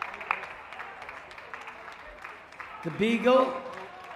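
Audience at a hound group judging ring at a dog show cheers and applauds as breeds are called in, a crowd swell rising near the end beneath an announcer's continuous voice.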